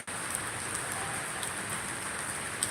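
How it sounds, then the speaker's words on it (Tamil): Steady night rain falls around a house, a dense, even hiss of drops on surfaces with occasional slightly louder splats, continuous and close with no voices. "இன்னும் மழை வீட்டில் மழை பெஞ்சிட்டு தான் இருக்குது"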